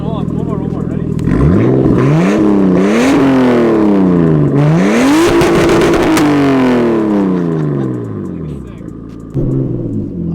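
A turbocharged RB25 Neo engine car makes a hard pull, the loud engine note climbing through the gears with sharp rising sweeps and shift drops before easing off, while people speak over the roar.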